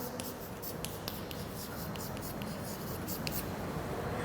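Pen or pencil writing factors by hand on paper during a maths lesson, faint scratchy strokes with small taps, quiet and close.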